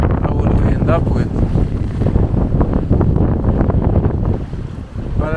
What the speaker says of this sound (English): now the wind is picking up